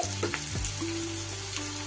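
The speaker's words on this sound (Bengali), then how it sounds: "পেঁয়াজটা কিন্তু আমার বেশ ভাজা ভাজা হয়ে গেছে এই পর্যায়ে আমি দিয়ে দিচ্ছি" Onions with ginger, garlic and green chilli paste fry in a pan, giving a steady close sizzle with faint stirring clatter and a few low tonal hums underneath.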